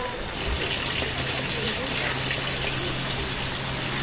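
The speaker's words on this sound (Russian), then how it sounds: "уже слышно, что здесь везде шумит вода" Broad, steady rush of water from the gravity-fed Peterhof fountains, continuous and fairly close with a constant hiss, a low hum running underneath.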